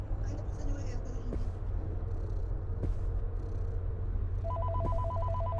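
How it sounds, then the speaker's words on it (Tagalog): A telephone rings inside the Fortnite game, an electronic trilling ring that comes in near the end over steady low game ambience and voices talking. "Te, nag-ring yung phone."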